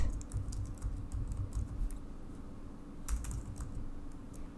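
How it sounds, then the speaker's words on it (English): A computer keyboard clacks with rapid, irregular keystrokes in quick clusters, close and fairly quiet, with no talking over it. "I'll start typing arched text."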